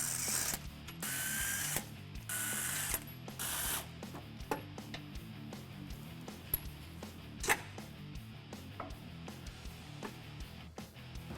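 Ratchet wrench clicking while loosening sway bar mount bolts on a Jeep Wrangler, with bursts of rapid ratcheting and then slower, scattered clicks close by, faint overall, with no talk.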